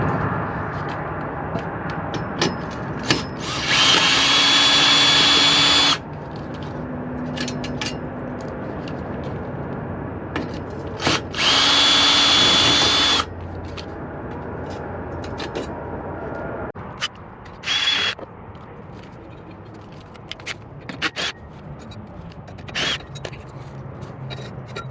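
Power drill backing screws out of an Aqua Hot generator exhaust tip, heard in two sustained bursts of a few seconds each and a brief final blip, with scrapes and clatter between them.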